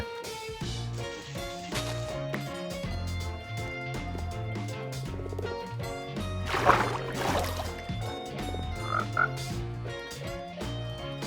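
Frogs croak in the Minecraft video game, a steady stream of repeated croaks layered over constant game music and ambient sounds with no pauses.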